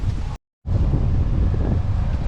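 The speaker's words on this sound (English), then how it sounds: "It's a windy day out here" Strong wind buffets a microphone outdoors in a continuous broadband roar, cut by a brief dropout near the start before resuming at full force.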